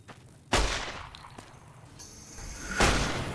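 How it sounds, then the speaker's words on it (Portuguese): Gunfire in the video game Fallout: New Vegas, two sharp loud shots about two seconds apart with ringing tails and faint game noise in between. "Tô errando todos os tiros."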